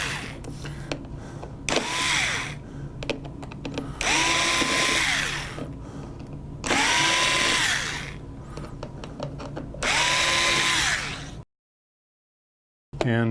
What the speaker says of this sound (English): You simply remove these 4 screws.